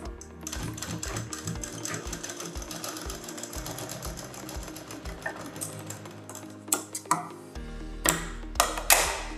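Sewing machine stitching a kurti, fast rhythmic needle clatter in runs, close and clear, with a few louder thumps near the end.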